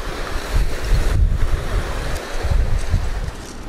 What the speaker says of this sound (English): And then the waves come in and start rubbing them amongst each other.